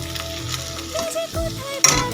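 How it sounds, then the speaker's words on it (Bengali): Mukhi kochu (taro) frying in a pan, a steady close sizzle with stirring scrapes and a sharp utensil clink near the end, no talking. "প্রায় আমার সেদ্ধ হয়ে গেছে মানে ভাজা ভাজা হয়ে গেছে"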